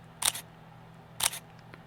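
Olympus E-M10 mirrorless camera shutter firing twice, each a crisp double-click, clearly louder and sharper than a quieter model, with a low background hum between the shots.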